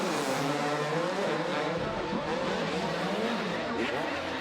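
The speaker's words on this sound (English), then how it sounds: "Dungey and Mccelrath, let's let him rip on the two-strokes one last time." Two-stroke motocross bikes on a Red Bull Straight Rhythm track scream side by side in a sustained loud, buzzing high-revving whine that rises and falls with gear changes, while a commentator talks over it.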